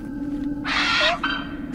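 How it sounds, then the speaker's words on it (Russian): Wild birds in the video game Journey to the Savage Planet squawk in a loud, harsh burst lasting about half a second, set against a steady game ambience with a constant low hum. "Дикие просто птицы."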